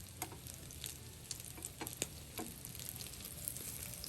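French toast sizzles softly in a pan, a quiet continuous frying hiss dotted with small ticks and pops.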